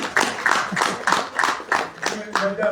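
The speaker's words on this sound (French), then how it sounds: "On vous applaudit." A few people at a women's leadership conference at the Paris Hôtel de Ville clap in a slow, rhythmic beat, distinct claps about twice a second, close by, ending with a brief voice.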